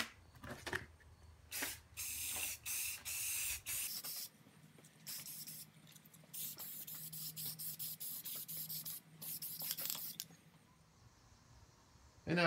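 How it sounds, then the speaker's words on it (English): Spray primer hisses in several bursts onto a drill press spindle part during an Atlas 73 drill press restoration, each burst lasting a second or two with brief gaps, close and fairly loud. "And now for some primer. Let's prime the other side here."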